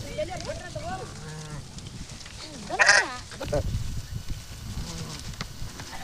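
A pregnant sheep bleats in a few wavering calls, one louder cry standing out midway, amid farmyard handling during a sheep vaccination, with people talking nearby.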